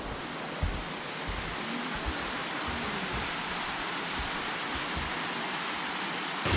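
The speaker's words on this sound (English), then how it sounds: "There's like a little mini waterfall, followed by another mini waterfall." Small cascading waterfalls along a mountain creek on Dobongsan in Seoul, a steady broadband rush of water that holds constant and fairly close throughout, with no voices.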